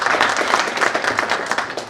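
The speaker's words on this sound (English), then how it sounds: "A clap for them." Audience applause at the RVTTI 11th International Research Conference, a dense, steady wash of many hands clapping together, loud and sustained throughout without a break.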